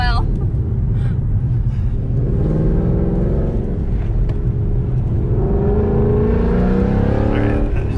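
Inside a car traded between PP2 and SS1LE owners, the engine rumbles loudly and climbs in pitch under hard throttle, with rising harmonic whine and people talking over it.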